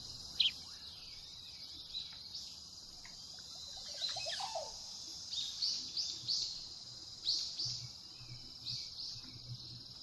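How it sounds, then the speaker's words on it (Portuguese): Birds chirp in the jungle setting of the video game Metal Gear Solid 3. Thin, high calls come in short bursts over a soft, constant insect-like drone, quiet and spread out across the scene. "É, eu tô vendo passarinho."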